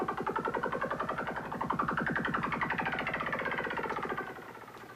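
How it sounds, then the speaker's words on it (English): A synthesizer whirlybird effect: a rapid, fluttering pulse that sweeps up and down in pitch, steady and fairly loud throughout. "Here's a whirlybird if you have any interest in that."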